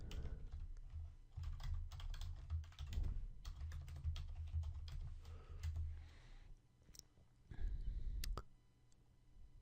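Rapid, irregular keystrokes clatter on a computer keyboard while jQuery code is typed, close and fairly quiet, with short pauses between bursts and a soft low hum underneath.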